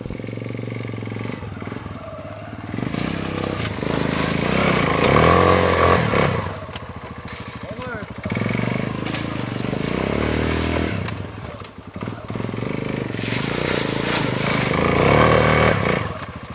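A Kawasaki Bayou 250 ATV engine labors up a steep, muddy hill, roaring in loud, uneven surges with rattling and scraping between bursts as the throttle rises and falls close to the microphone.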